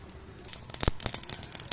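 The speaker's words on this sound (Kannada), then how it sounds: "ಸಾಸಿವೆ ಚಿಟಪಟ ಆದಮೇಲೆ" Mustard seeds splutter in about two tablespoons of hot oil in a pan, giving irregular sharp pops and crackles that thicken into a busier burst midway.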